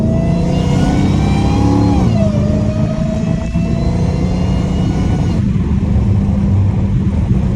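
Catless Dodge Hellcat Redeye driving at night with its exhaust valves closed, the engine loud and close, revving up then dropping in pitch and droning on steadily, with a little talking.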